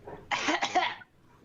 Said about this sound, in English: I'm going to like cough it to get people's attention.